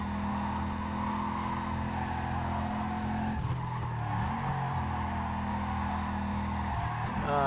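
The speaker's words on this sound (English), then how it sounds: "That is an engine noise, by the way. I really do like the engine noises in this game." In the racing video game Need for Speed: Carbon, a car engine drones steadily and loudly while the tires skid and squeal, with the engine pitch shifting partway through.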